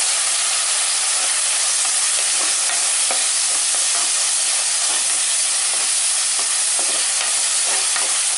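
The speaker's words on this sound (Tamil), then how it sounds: "வெங்காயம் பூண்டு தக்காளியை நல்லா வதக்கிக்கிறேன்." Onion, garlic and tomato sauté in a clay pot for a dried-fish thokku, producing a loud, close, continuous frying hiss and crackle with scattered stirring scrapes throughout and no talking.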